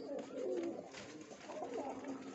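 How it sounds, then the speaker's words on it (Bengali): Pigeons scuffling inside a single coop compartment, with a pair of birds fighting: close, busy cooing and bird calls with soft rustling, steady and fairly loud across the whole stretch, no talking. "একটা খোপে দুজন কিভাবে মারামারি করতেছে দেখুন।"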